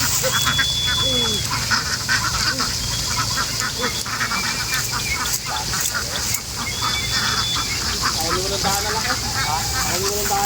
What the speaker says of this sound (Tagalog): Para dire-diretso doon yung mga itik doon.